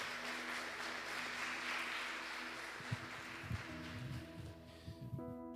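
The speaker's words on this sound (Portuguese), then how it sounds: "Dê uma linda salva de palmas para Ele." Church congregation applauding after a prayer, a broad wash of clapping that fades out while faint musical tones and a few thumps rise beneath it, quiet and somewhat distant.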